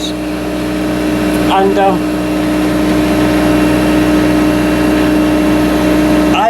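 A boat engine on the Norfolk Broads runs at about 2,200 revs, a loud, steady mechanical drone heard from close by at the stern, with someone speaking briefly over it.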